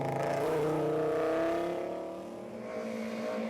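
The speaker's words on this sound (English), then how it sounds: "James Hall and Alan Hourigan took the Class 19 win in their awesome-sounding Audi Quattro" Audi Quattro historic rally car competing in the Galway Summer Rally, its engine roaring loud and close with a rising, revving note that eases off briefly before building again.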